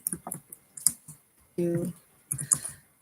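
Typing on a computer keyboard with long nails, irregular bursts of light clicks and taps with gaps, plus a brief sustained tone in the middle, fairly close and moderately loud.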